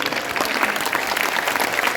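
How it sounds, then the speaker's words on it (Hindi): A crowd at a martyrs' day poetry recital of heroic verse bursts into dense, loud applause, a continuous roar of clapping filling the whole moment. "आसमान भर तालियां उसके लिए"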